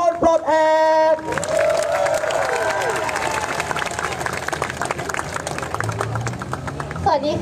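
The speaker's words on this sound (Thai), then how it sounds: "ขอเสียงปรบมือให้คุณเมตภาอำนาจส่งเสริมจากกลุ่มประชาชนปลดแอก" A crowd at a political rally marching to parliament breaks into broad, sustained applause and cheering that rises abruptly after a moment of amplified speech and carries steadily to the end.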